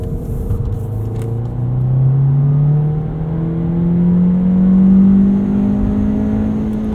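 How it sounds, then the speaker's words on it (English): A 2019 Volkswagen Jetta 1.4T S with a six-speed manual revs through a heel-toe downshift, the engine note dipping and then rising in smooth blips and climbs, loud and close inside the cabin. "You can heel toe downshift."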